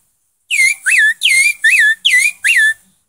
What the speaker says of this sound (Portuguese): Sabiá gongá.